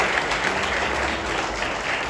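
A church congregation claps together in steady, sustained applause during a service, a dense continuous patter filling the room.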